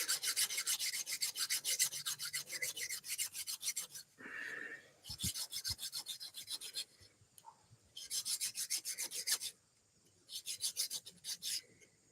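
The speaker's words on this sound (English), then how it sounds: "we're gonna file that off" Metal file rasping back and forth across a plated Colson bicycle part to take down a galled bump, in several bursts of steady close strokes separated by short pauses.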